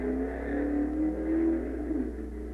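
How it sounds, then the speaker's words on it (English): A drag racing car leaving the starting line at the 1956 NHRA National Championship Drags in Kansas City, a steady engine roar rising and falling in pitch as it accelerates, heard fairly close and alone. "A car leaves the line about every 20 seconds."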